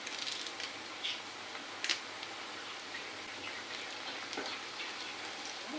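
Onions, green chilies and curry leaves fry in hot oil for a village-style mushroom curry, giving a steady, fairly quiet sizzle with a few sharper crackles and pops and no talking.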